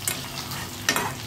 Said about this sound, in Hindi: तो इसी टाइम पे हम डाल देंगे हरी मिर्च जो हमने काट के रखी हुई है ना, वो हम इसमें डाल देते हैं। इसको भी थोड़ा सा भून लेते हैं प्याज के साथ ही।